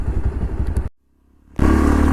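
Modified old-model Bajaj Pulsar 200 DTSI motorcycle engine running loud and close, with a dense chugging idle that cuts out briefly to near silence and then restarts at a steady, strong rumble.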